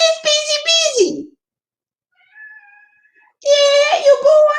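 A cat meows indoors, two loud, close, drawn-out meows separated by a short pause, with a faint tonal sound in the gap between them.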